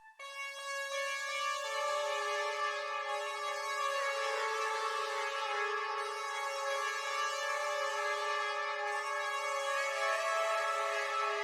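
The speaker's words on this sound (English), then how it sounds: "Now it sounds like this instrument is being played in a very, very large room, and it makes it sound a lot more full." A dark, sustained sampled melody produced in FL Studio, bathed in a large-room reverb, holds layered harmonic tones that shift slowly and ring out fully and evenly throughout.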